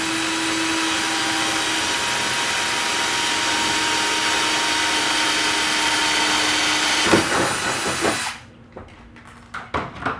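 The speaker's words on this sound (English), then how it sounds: "we're going to drill into our bar" A power drill bores into the bar of a Club Car golf cart, whining steadily for about seven seconds before stopping, followed by a few scattered clicks and knocks.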